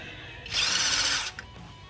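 A power drill whines in one short, close burst of just under a second while wheel nuts are being removed from a 2013 Jaguar XF, with faint clicking before and after.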